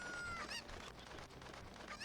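Cuckoo chickens from the video game Ocarina of Time cluck and squawk in a faint, brief burst of game audio with no talk.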